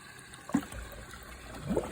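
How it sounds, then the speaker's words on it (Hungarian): Water from an outdoor supply runs through a simple toilet-style refill valve into a garden pond with a bog filter, giving a soft steady trickle with two brief gurgling splashes close by. "Ez itt az utántöltő, egy sima WC szelep lényegében, ami rá van kötve a kinti vízre, ahol csökken a vízszint."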